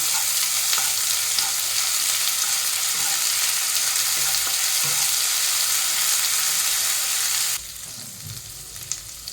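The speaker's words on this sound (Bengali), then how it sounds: "এবারে দিয়ে দেবো 1 চামচ আদা আর রসুন বাটা, দিয়ে ভালো করে একটু কষিয়ে নেব।" Ginger-garlic paste fries in hot oil in a pan, a steady, loud sizzle running continuously, then dropping abruptly to a quieter crackle near the end with a few soft stirring scrapes.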